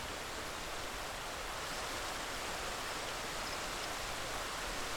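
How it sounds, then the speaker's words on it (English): A waterfall in Final Fantasy XIV pours as a steady, broadband rushing wash, constant and fairly faint, with no voices over it. "Imhitra waiting for us by the waterfall"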